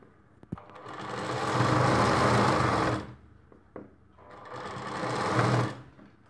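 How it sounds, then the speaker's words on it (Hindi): An electric sewing machine runs in two sustained bursts of rapid stitching, stopping briefly in between, as a seam is sewn along the magji trim of a lined Rajputi dress. "इस प्रकार से कपड़े को बराबर रखते हुए हमें सिलाई लगा देनी है।"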